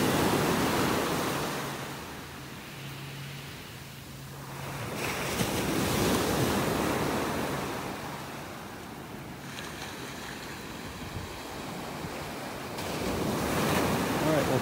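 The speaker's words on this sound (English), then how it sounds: "Loving the sounds of these waves." Ocean surf breaks on a beach in North Naples, Florida, rising and falling in long washes of white noise, with wind buffeting the microphone throughout.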